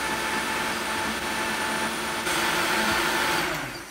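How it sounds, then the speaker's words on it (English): A loud, steady whirring of a blender running continuously while blending egusi smooth, its motor pitch shifting slightly partway through before tapering at the end. "We're gonna blend it smooth before we start frying"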